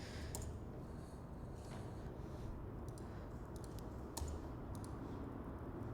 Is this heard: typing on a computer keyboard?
yes